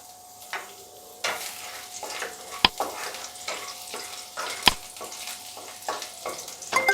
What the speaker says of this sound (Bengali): তেলটা গরম হয়েছে, ওর মধ্যে আমি রসুন কেটে রেখেছি, একটু থেঁতে নিয়েছি, সেটা দিয়ে দিলাম